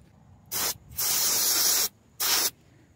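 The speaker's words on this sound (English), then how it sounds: "starter fluid I don't have a brake cleaner" Starter fluid sprayed from an aerosol can while fitting a front wheel bearing and rotor on a Ford E-series van: three sharp hissing bursts, a short one, a long steady one, then another short one, close and loud.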